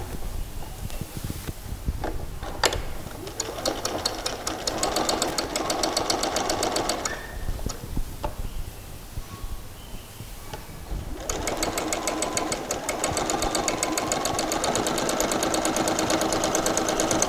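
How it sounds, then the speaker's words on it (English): A sewing machine stitches the fly front extension or binding onto the seam allowance of a pair of shorts, running in long, steady bursts with brief pauses and one longer stop midway, close and fairly loud. "Then continue stitching your fly front extension or binding onto that"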